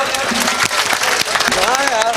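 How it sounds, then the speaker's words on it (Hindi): Applause from a mushaira crowd, a dense, steady patter of many clapping hands that lasts the whole short stretch, with a voice ringing over it. "अब बजाओ तालियां।"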